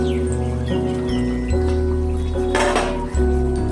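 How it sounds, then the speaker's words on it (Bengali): A metal lid is lifted off a cooking pot of chicken on the stove, giving a few clinks and scrapes, then a brief rush of steam and sizzle. "দেখি, ঢাকনাটা খুলে দেখি এবার"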